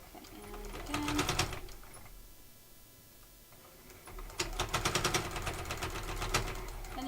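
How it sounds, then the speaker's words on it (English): Sewing machine stitching a strap close to a metal D-ring on a hip bag, two bursts of rapid mechanical clatter separated by a quieter pause, close and fairly faint. "you do want to be careful in this step not to hit any of that metal as you're sewing"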